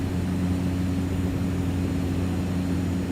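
Steady drone of a Cessna 208 Caravan turboprop in X-Plane flight simulator with the throttle pulled back, a constant low humming engine tone holding level and unbroken throughout.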